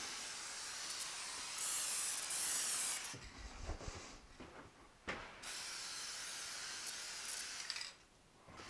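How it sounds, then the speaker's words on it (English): WD-40 dry lube is sprayed from an aerosol can onto the bottom plate of a planer in several hissing bursts with short pauses between them, close and fairly quiet. "I'm going to go ahead and spray the bottom plate with some WD-40 dry lube"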